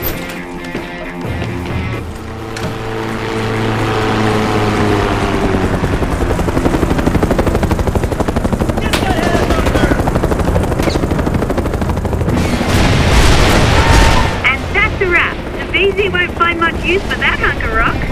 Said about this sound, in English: Get that helicopter!